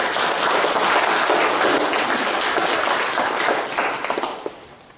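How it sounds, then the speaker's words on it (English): A church congregation applauds during a Reformation Day service, dense steady clapping filling the room for about four seconds before tapering off into a few scattered claps. "And let's give her a round of applause again."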